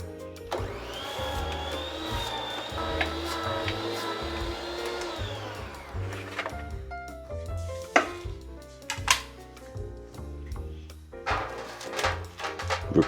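A knife cuts sweet potato into thin chips on a board, first a long steady whirring cut, then a series of sharp, uneven chopping knocks close by.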